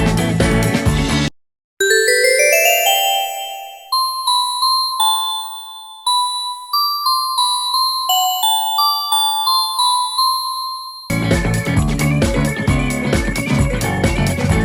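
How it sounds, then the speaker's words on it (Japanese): Wide View chime played aboard a KiHa 85 series train in Roblox: a clear, bright melodic sequence of ringing chime notes, loud and alone, framed by a burst of background music before and after. "それにワイドビューチャイムも鳴らせます。"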